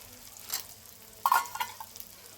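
Tomato drops into a pan of frying onion and garlic and sets off a soft sizzle, with a few scraping stirs and taps standing out against a low, steady frying hiss.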